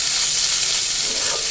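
Potatoes, onion, spring onion, carrot and capsicum fry in a pan, a close, bright, steady hiss of sizzling oil with no break.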